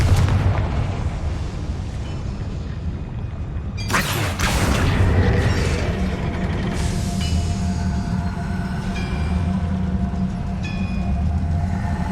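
A Confringo fire spell blasts in Hogwarts Legacy, one loud sudden explosion that bursts over a steady rumbling game background and then fades into lingering crackles and tonal effects, with no talk.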